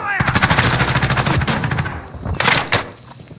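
Close, loud automatic gunfire from the video game Call of Duty: Modern Warfare rattles in a rapid burst for about two seconds, followed by a couple of separate sharp shots.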